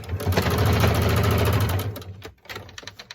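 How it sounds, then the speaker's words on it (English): A sewing machine runs in one close, loud burst, stitching back and forth over fabric mask ties, then stops briefly before a few slower stitches and handling clicks; no voices. "I'm going to double and triple stitch that"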